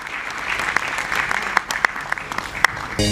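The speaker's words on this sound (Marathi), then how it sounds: "जोरदार टाळ्या आपण सर्वांनी देऊया संजयजींसाठी" A crowd at a Marathi instrumental ensemble awards ceremony applauds a performer named Sanjay, giving a short, steady burst of many hands clapping with a few louder claps standing out, before it cuts off abruptly.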